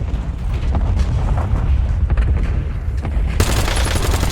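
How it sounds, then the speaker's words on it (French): Video game gunfire in a multiplayer shooter, rapid bursts of close automatic shots crackling throughout, with a brief loud blast near the end and no talking. "J'ai des tirs."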